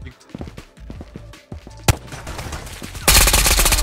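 Rapid gunfire from the VR shooter Ghosts of Tabor: a string of sharp shots in quick bursts, one loud crack, then a dense sustained volley at the end, close and loud, with no talk over it.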